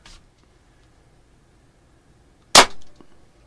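A PCP air pistol, filled with a hand pump, fires a pellet with one sharp, loud crack and a brief ringing tail, standing alone after near silence.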